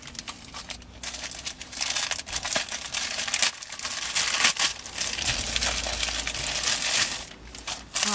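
A plastic packet holding confectionery supplies such as disposable piping bags is torn open and handled at close range. It gives bursts of crisp crinkling and rustling that come and go over several seconds, with no talking.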